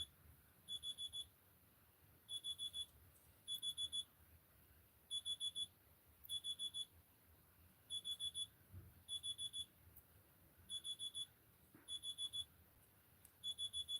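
A faint electronic alarm beeps in repeated clusters of rapid pulses, going off steadily with short gaps between bursts and never stopping.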